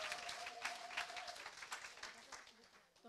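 A church congregation at a worship service claps steadily, a faint crowd sound with quick rhythmic hand claps under voices and a brief sung tone.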